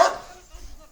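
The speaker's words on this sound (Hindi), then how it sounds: "आपको बिल्कुल कुत्ता भौंक रहा है बिल्कुल पेड़ों में।" A dog barks once, short and fairly loud, out among trees near an orange orchard, then fades into faint background noise.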